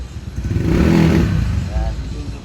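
A Rusi Passion 150cc motorcycle fitted with a 59 block, 28mm carb and cams revs up loud and close, its engine note swelling and then easing off with uneven popping, while a voice talks over it.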